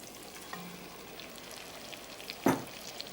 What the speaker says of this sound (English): Now I put in all the browned meat